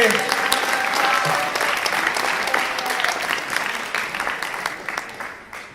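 Sustained applause from an audience greeting a finalist at a reading event, loud and continuous at first, then thinning slightly toward the end, with a bit of crowd voice mixed in.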